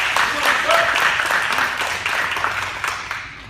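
Spectators at a martial arts belt promotion ceremony clap for a student, a short burst of applause that fades gradually.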